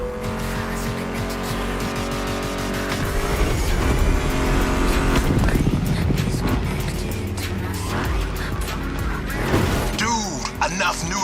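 Ford Mustang GT muscle car in The Crew Motorfest racing game, its engine roaring loudly with tire squeals and skids over layered game sound, fairly busy and continuous throughout.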